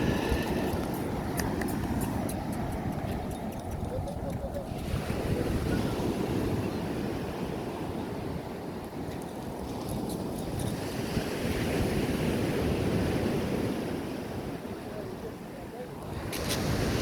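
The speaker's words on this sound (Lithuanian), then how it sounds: "kas 10 banga didelė ateina" Sea waves break and wash onto a shore in Italy in a continuous loud roar, mixed with heavy wind buffeting the microphone and occasional voices.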